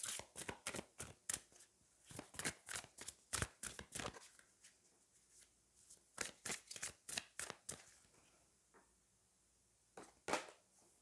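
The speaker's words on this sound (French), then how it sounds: "on va aller prendre une carte du Magic of You" Magic of You oracle cards shuffled by hand in quick crisp bursts, a rapid run of riffling slaps, a pause, then more shuffling and a final draw, close and clear with no voices.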